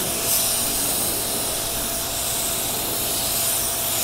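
A spray gun lays down a coat of 2K primer, making a continuous loud airy hiss that holds steady from start to finish with no talking.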